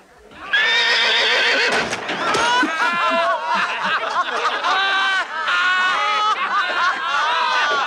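A horse whinnies loudly and repeatedly in a German children's film, long quavering neighs close up, with laughter and a few voices mixed in around them.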